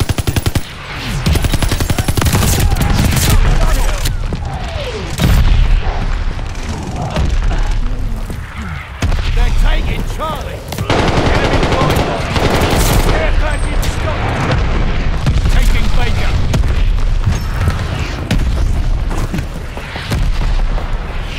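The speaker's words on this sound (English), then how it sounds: "Sending mortar shells!" Mortar shells and gunfire burst loudly and repeatedly in Call of Duty: Vanguard multiplayer, heavy booms and rapid machine-gun bursts layered over constant battle noise, with voices talking underneath.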